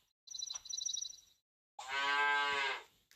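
A cartoon cow moos in the video game Super Auto Pets, a short burst of high chirpy tones followed by a loud, drawn-out synthetic moo, heard alone with no talk.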